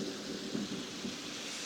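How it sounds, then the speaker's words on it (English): A low rolling rumble of thunder sits under steady heavy rain heard from indoors by a window in Crawfordsville, Indiana, a dense continuous hiss with a muffled swell at the center. "More thunder!"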